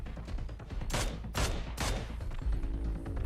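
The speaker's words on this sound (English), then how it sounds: "hearing the sniper shots whizzing by him" Sniper rifle shots in the battle royale video game PUBG Mobile: three loud, sharp cracks about half a second apart, each with a brief tail, over a steady low rumble of game ambience.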